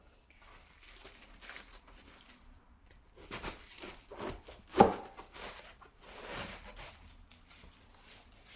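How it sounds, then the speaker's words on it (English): A knife cuts through cabbage on a board, chopping it into bite-sized pieces in irregular bursts of crisp, crunchy strokes, with one sharper loud chop near the middle; fairly quiet and close, with no talking. "cabbage, slice them into about bite-sized pieces"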